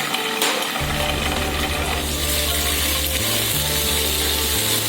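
Chili paste mixture cooking in a pan for Szechuan sauce, a steady broadband sizzle and frying hiss running throughout over a low continuous hum, close and fairly loud, with no talking.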